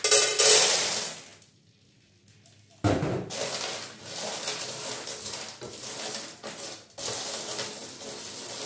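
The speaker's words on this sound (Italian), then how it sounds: "L'olio comincia a friggere, vado a inserire le vongole." Clams tossed into a pan of hot frying oil with a garlic clove, a loud crackling sizzle that drops away, then bursts back in and keeps hissing steadily close by, with no voices.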